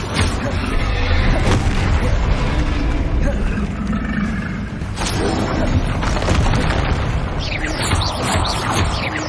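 Repeated heavy booms from Bombarda blasting spells in Hogwarts Legacy, loud and continuous over a dense rumbling game-combat backdrop, with bursts at roughly one-, five- and eight-second points.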